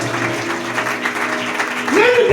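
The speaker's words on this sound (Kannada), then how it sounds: "ಚಪ್ಪಾಳೆ ತಡಬೇಕು ಜೋರಾಗಿ" A church congregation at a Christian ministry service in Bidar claps loudly and steadily, growing stronger toward the end, with voices mixed in.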